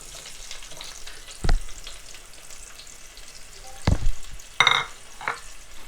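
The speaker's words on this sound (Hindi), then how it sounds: "सब्ज़ियों को करते हैं हल्का सा फ्राई।" Vegetables hit hot oil in a pan, giving a few sharp, loud bursts of sizzling and stirring against a quiet background, with no one speaking.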